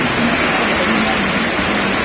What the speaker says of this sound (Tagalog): Yan, sobrang lakas ng ulan.